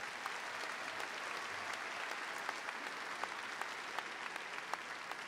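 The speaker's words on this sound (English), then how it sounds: "If we could please give them a round of applause." An audience at a Lindbergh High School commencement gives graduation staff a round of applause: steady, fairly distant clapping from many hands, continuous and even throughout.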